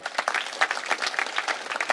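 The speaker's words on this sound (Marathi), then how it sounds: "त्यांच्यासाठी टाळ्या वाजवा" Crowd applause at a political rally in Beed, a dense wash of many hands clapping close and loud, steady through the whole stretch with no talk over it.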